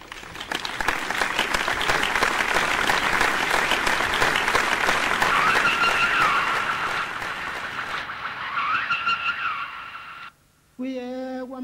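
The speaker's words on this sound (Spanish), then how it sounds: "Un aplauso para ellos." Audience applause at a Madrid fashion show, steady dense clapping filling most of the stretch before cutting off abruptly near the end, with a brief tonal music sting following.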